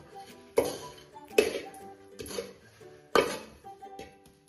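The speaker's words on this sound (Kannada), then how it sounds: "ನಾನು ತುಪ್ಪ ಹಚ್ಕೊಂಡಿದ್ದೇನೆ. ಇದರೊಳಗೆ ಕೊಬ್ಬರಿ ಮಿಶ್ರಣವನ್ನು ಹಾಕೋಣ." Coconut candy mixture dropped in sticky clumps onto a ghee-greased plate, with four distinct soft thuds and scraping clinks of a spoon against metal at an unhurried pace, close up and alone.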